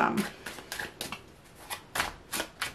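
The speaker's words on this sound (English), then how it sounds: "Go ahead and do some more shuffling" Tarot cards are shuffled in a series of crisp riffling flicks and slaps, close and fairly quiet, repeating irregularly while a person talks.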